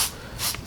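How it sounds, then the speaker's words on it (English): Soapy water sprayed onto car paint during wet sanding, a breathy hiss in short bursts from a nearby spray bottle, fairly quiet. "let me spray it down"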